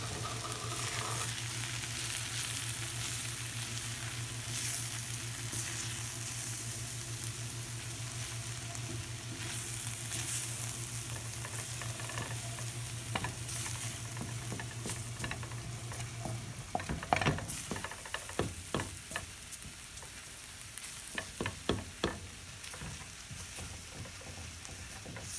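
A spice base sautés for a fish mole with a continuous sizzle and a low hum early on, then the pan is stirred with a series of scraping clatters in the second half. No talking.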